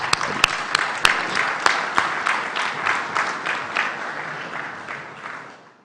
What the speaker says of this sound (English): a round of applause for everybody sitting on the dais